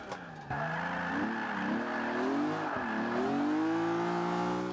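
Exhaust popping from a race-exhausted car in Forza Motorsport 5 drifting, with engine harmonics revving up and down continuously and loudly, tires squealing alongside, no speech.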